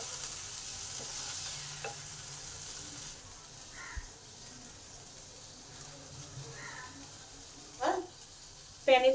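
Okra frying in a pan, a soft steady sizzle with occasional stirring scrapes, fairly faint and close, with a few brief louder clatters near the end.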